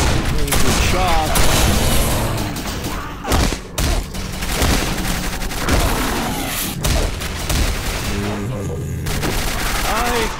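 Rapid gunfire and explosive booms in the video game Quake 4 form dense, continuous bursts of shots and thuds in a loud, chaotic firefight, with brief lulls and a voice speaking over parts of it.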